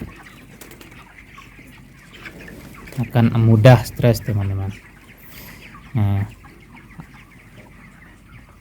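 Broiler chickens about 25 days old cluck and squawk in an open stilt coop. Loud close bursts break out twice over quiet background clucking, while a voice talks at times.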